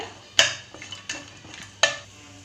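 A utensil clatters against a pan in a few sharp knocks while cashews are stirred and faintly sizzle in hot oil.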